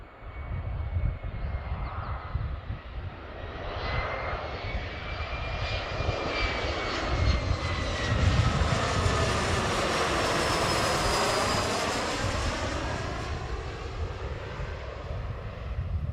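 Jet airliner taking off from runway 34 right at Seattle, a loud, sustained engine roar with a rising whine that swells as it passes and then slowly fades, heard from a distance with no talk.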